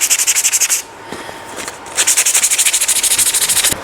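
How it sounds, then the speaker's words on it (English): A small craft piece for a pin banner is sanded by hand in rapid, even back-and-forth strokes, loud and close, with a short pause before the rhythmic rubbing resumes. "I just need to give this last one a sand."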